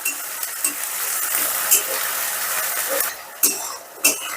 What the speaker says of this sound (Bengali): এবার মশলাটাকে আমি মিনিট 2-এর মতন কষিয়ে নেব।